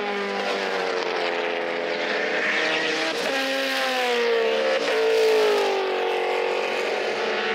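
A Toyota A86 race car screams along the CARCO.com.au Raceway track in a WA Sporting Car Club street car race, its engine note climbing and shifting loudly and close, with a brief tyre squeal.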